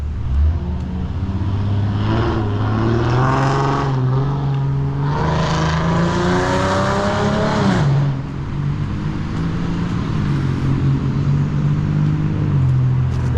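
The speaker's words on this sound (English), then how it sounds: "That was that loud Mustang motor that you guys just heard." Loud Ford Mustang V8 engine roaring past on a street near downtown Smyrna, Tennessee, rising in a strong revving surge and then fading as steady traffic rumble continues.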